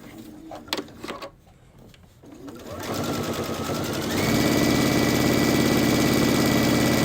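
A Brother sewing machine with a bi-level foot starts after a few soft clicks and handling sounds. It then stitches in a fast, steady mechanical whir that rises and grows louder as it speeds up.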